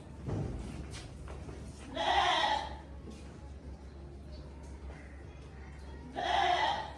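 Goat bleating during farm crossing season, two loud nasal calls with a gap between them, close by over a low steady hum.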